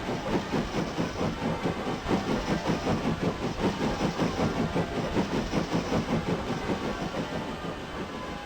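A steam locomotive on the Swanage Railway in the OpenRails train simulator chuffs in a steady, rapid rhythm with a continuous hiss of steam, loud and unbroken throughout with no voices.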